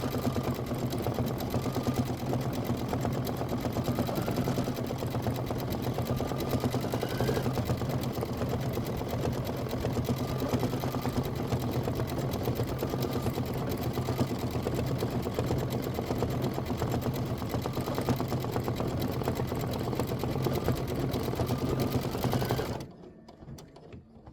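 An embroidery machine stitching a detail and then an outline tack-down on fabric, humming and chattering steadily at close range with a fast needle rhythm for over twenty seconds before cutting off.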